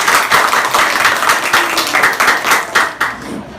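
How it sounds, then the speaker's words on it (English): Audience applause for a speaker at a school debate, a loud, close round of individual claps with distinct hand strikes, tapering near the end. "Let's give him a round of applause,"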